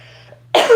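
A person coughs once, sharply and close by, after a quiet moment.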